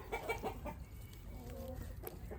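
Ornamental chickens clucking softly at close range, a few short overlapping calls over a steady farmyard background.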